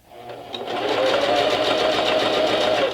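A sewing machine stitching a seam runs at a steady, fast mechanical buzz that starts after a brief quiet moment and holds loud and close without pause.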